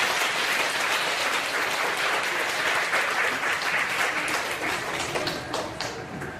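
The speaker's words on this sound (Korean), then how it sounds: "박수 한번 주시옵소서." A church congregation applauds at a Baptist church in Gongju, with a full, sustained burst of many hands clapping that fades toward the end.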